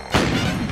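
Cartoon gunfire in an animated dog-city gangster show, a dense burst of booming shots filling nearly the whole short moment, loud and close with no clear gaps between blasts.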